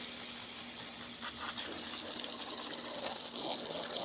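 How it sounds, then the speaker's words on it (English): Steady gushing spray of water rinsing dirt out of outdoor air conditioner condenser coils, a continuous hiss with slight fluctuations, close and without speech. "So I'll go ahead and get all this rinsed out."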